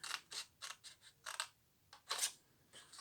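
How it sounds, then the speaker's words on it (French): Scissors snipping paper for an Easter box craft, a series of crisp close cuts in uneven clusters with short pauses, quiet otherwise. "je coupe celui-ci. Et je coupe celui-là."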